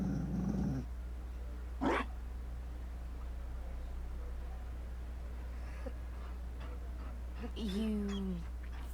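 A Mabari war dog growls in Dragon Age Inquisition, a low rumbling snarl at the start followed by a short sharp vocal burst, then a second growling whine near the end over a steady game background hum.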